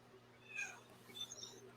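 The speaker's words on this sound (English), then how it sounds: "That is an angry cat ready to win." An angry cat gives two short strained meows, close and fairly faint, over a quiet room.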